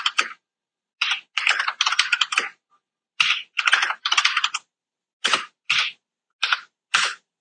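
Bursts of close, crisp keystrokes on a computer keyboard in quick clusters, separated by short pauses, while entering names into Microsoft Project.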